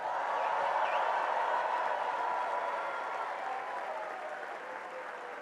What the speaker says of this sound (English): Let's please all give a warm applause again for the class of